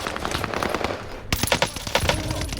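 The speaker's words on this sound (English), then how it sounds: "My bullets do extra damage because they're fire bullets." Fire bullets in a shooter video game rattle off in rapid automatic bursts, dense and loud. Volleys briefly pause, then resume with sharper, heavier cracks.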